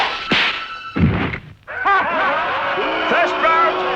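An arrow shot striking a target during an archery contest in a Robin Hood cartoon, a sharp thunk followed by voices and a cheering crowd.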